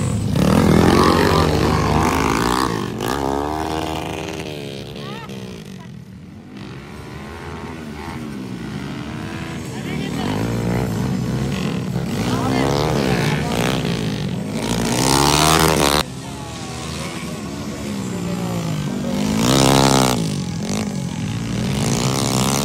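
Underbone motorcycles in an open final race heat at a track in Malaybalay City, engines revving and droning loudly with rising and falling pitch as the bikes pass close by, continuous throughout.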